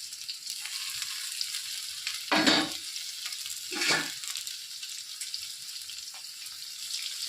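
Steady sizzling hiss of coriander and curry leaves sautéing in a frying pan for semiya upma, with two louder bursts of scraping and stirring partway through.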